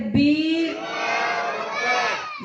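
At an outdoor religious gathering marking Eid Milad-un-Nabi, a large crowd roars a slogan back in unison. The sustained, loud chorus swells and fades over about two seconds after a single voice cues it.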